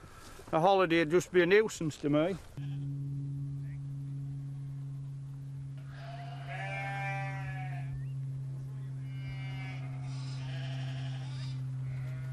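A sheep bleats at close range, then a steady low hum takes over while fainter bleats from a flock of over 900 rise and fall further off.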